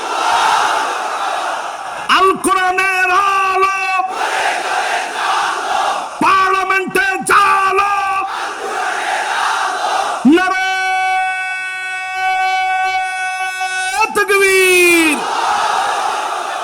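A large crowd at a religious sermon gathering roars the takbir chant in unison, with several loud, sustained group shouts rising and falling in repeated waves between pauses.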